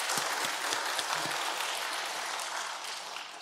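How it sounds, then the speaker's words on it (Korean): Steady applause from a church congregation during a Sunday service, with a few sharper claps early on, fading slightly toward the end. "먼저 하나님 앞에 감사의 박수 올려드립니다."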